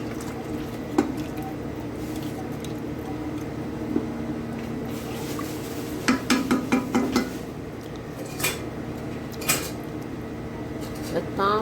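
Chicken and large chunks of potato get stirred in a cooking pot, with scattered scrapes, clinks and soft wet squelches over a low steady hum; a short burst of quick knocks comes midway.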